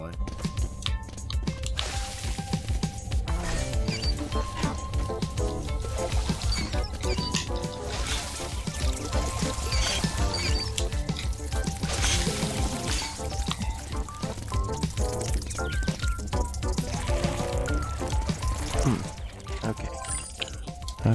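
Liquid pouring in the space game Out of Space, a steady loud stream with drips and splashy clatter running throughout, mixed with other game sounds and voices talking over it.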